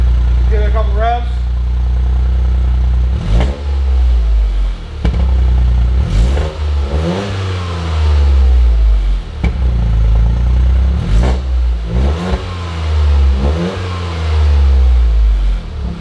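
Close-up revving of a Toyota GR Corolla on its stock exhaust: after a brief idle, the engine is blipped repeatedly in a series of rising and falling revs, each climb followed by a quick drop back to idle.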